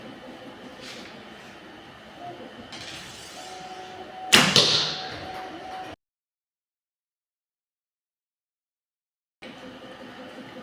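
An arrow shot from an ILF riser bow fitted with accessories: one sharp, loud release snap with a brief ringing tail, preceded by faint handling sounds, then silence.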